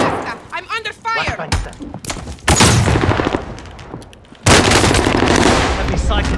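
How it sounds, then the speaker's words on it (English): Bursts of automatic gunfire and rapid shots in the shooter video game Call of Duty Black Ops 2, loud and dense with short gaps, with brief talk at the start. "I'm under fire."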